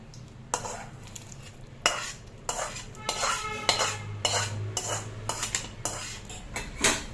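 Hot rice being mixed for tamarind rice, a spoon repeatedly scraping and clanking against a metal vessel in irregular bursts, close and clear with soft stirring between strokes.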